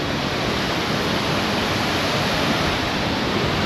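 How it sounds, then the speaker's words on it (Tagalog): Bisibis Falls, a hidden waterfall in Mauban, Quezon, roars in a steady, loud, unbroken broadband rush of falling water that stays constant throughout, with no voices. "Pagmasdan muna natin yung napakagandang falls"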